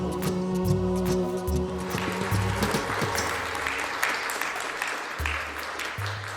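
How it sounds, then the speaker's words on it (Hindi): Audience applause at a live tribute concert on stage, a sustained wash of clapping over lingering music and crowd noise, steady and fairly loud throughout. "ताली हो"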